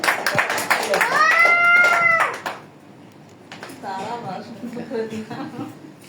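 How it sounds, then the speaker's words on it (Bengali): Applause from an audience at an award gathering, a dense burst of clapping in a room that fades after a couple of seconds, mixed with voices and crowd chatter that continue afterward. "আমরা সবাই করতালি দেই।"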